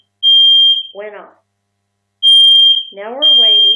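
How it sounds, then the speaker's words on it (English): A building's smoke alarm beeps in steady high-pitched tones, loud and close, stopping once and resuming, with a person talking briefly between and over the alarm. "fire alarm"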